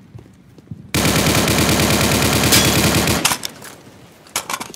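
Sustained machine gun burst in a first-person shooter game, a loud rapid rattle of shots lasting over two seconds, then stopping, followed by a few scattered sharp impacts.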